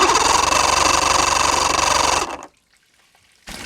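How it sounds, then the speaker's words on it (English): A Mercury outboard motor is cranked over while being diagnosed for no spark, a loud, dense mechanical churning that runs steadily for about two seconds, cuts off into near silence, then starts again briefly. "So we'll turn over the motor now"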